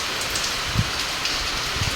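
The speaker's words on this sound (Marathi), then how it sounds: "सकाळचा पाऊस बारा वाजेपासून चालू आहे" Steady rain falling on a cattle shed at a farm, an even close hiss of drops on the roof with a few soft thuds and no voices.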